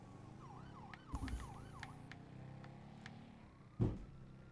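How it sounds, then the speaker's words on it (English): Wavering police sirens in a video game, a steady wail running through the background with a couple of louder thumps and bangs over the top and no talk. "I still hear sirens."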